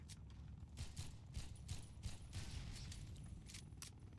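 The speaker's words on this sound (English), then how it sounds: "Gotta love some explosions." Rapid bursts of gunfire and explosive blasts in the video game Jurassic Life crackle in quick succession, a dense, steady barrage with no talking.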